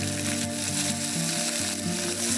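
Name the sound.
veal fillet frying in pan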